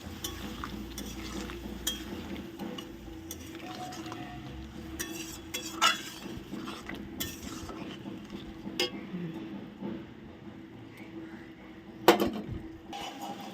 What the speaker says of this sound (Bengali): এখন আমি মশলাটা দিয়ে দিচ্ছি মশলা দিয়ে এখন কষানো হোক